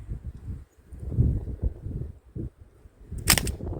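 Sig Sauer MPX .177 CO2 air rifle fires a single sharp crack near the end, after a stretch of low outdoor rumble and handling noise.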